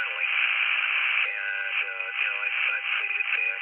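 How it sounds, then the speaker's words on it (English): Two steady birdie tones sit over a live amateur radio signal, band-limited noisy hiss with the faint voice of an operator coming through the radio, continuous and fairly loud. "we have two birdie tones over top of the live signal that we're listening to"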